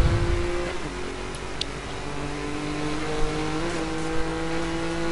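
A car engine accelerates in the racing game Need for Speed Most Wanted (2012), rising revs held loud and close with shifting engine tones throughout.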